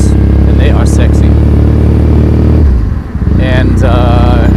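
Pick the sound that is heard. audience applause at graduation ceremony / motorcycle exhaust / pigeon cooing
motorcycle exhaust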